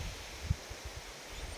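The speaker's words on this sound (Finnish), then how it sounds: "Täällä tuulee aika paljon." Strong outdoor wind from the remnants of a hurricane buffets the microphone with low, thumping gusts over a steady broadband hiss, close and continuous.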